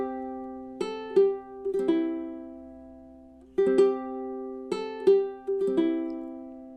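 Ukulele playing a gentle Silent Night chord melody, plucked chords and melody notes ringing out clearly in slow phrases, close and alone.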